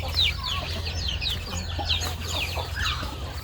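Thai native chickens cluck repeatedly at a morning feeding on a farm, several birds calling in overlapping bursts over a steady low hum, fairly close and continuous.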